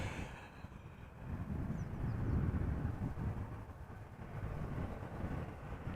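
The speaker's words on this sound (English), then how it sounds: "6918 737-800 arriving from Olbia." A Transavia Boeing 737-800 airliner arriving at Amsterdam Schiphol produces a distant, low, steady rumble that swells gently and then fades slightly, with no voices.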